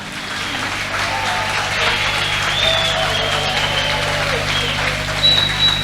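Audience applause for Curaçao at a large outdoor grill event, a loud, even patter of many hands sustained throughout, with a low steady hum underneath and a few high whistles or cheers poking through.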